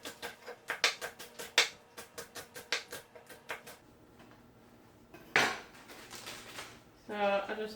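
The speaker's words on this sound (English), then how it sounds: "So now I'm going to cut up some green onion." A kitchen knife chops green onion on a cutting board in quick bursts of crisp, close taps, pausing midway, then a clatter and a brief voice near the end.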